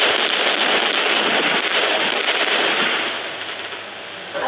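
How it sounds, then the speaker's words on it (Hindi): Sticky bombs detonating in a train-blasting video game, a dense, sustained crackle of popping blasts like firecrackers that stays loud throughout and eases slightly toward the end. "तो पहले हमें जल्दी से स्टिकी बम फोड़ने होंगे"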